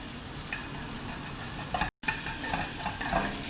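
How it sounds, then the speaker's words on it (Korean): Beef fries in a pan over low to medium heat for Korean chiljeolpan, giving a steady close sizzle with soft crackles and stirring sounds, briefly cut off once midway, with no talking. "이렇게 해서 고기를 다 익혀주시고 약한 불이나 중간 불로 해주셔야 고기가 타지 않으면서 속까지 다 익습니다."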